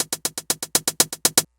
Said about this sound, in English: let's pretend that you have this hi-hat pattern going on all throughout